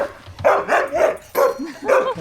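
Huskies barking at a sled-dog yard in Russia, several loud, close barks and yips in quick bursts with brief pauses, no talk over them.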